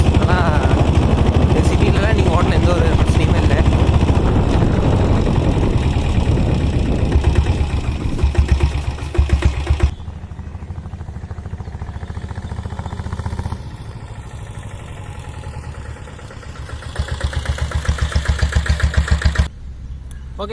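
A diesel Bullet motorcycle with self start runs with a loud, rapid, thumping engine beat, steady and close, then quieter for a stretch before the noise rises again.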